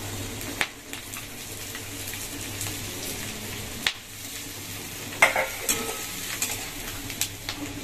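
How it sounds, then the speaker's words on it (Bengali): Potatoes frying with onion and green chilli in a pan, a low, steady sizzle with a few sharp spatula knocks and scrapes as it is stirred, close but fairly faint and without talk. "আমার আলু আর পেঁয়াজ সবকিছু ভালো করে ভাজা হয়ে গেছে।"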